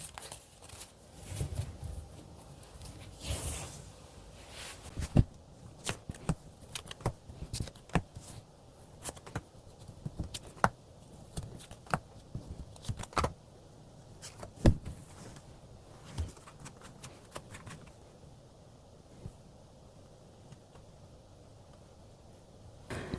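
Tarot cards are shuffled and drawn in a quiet room, producing soft close riffling and flicking with many small sharp snaps and taps scattered irregularly across the whole stretch.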